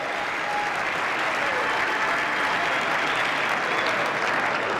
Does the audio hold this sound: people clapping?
yes